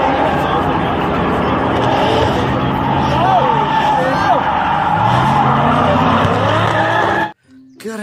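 A toy race car makes electronic engine roars and tire-skid squeals, loud and continuous for about seven seconds before cutting off abruptly, with a voice talking over it.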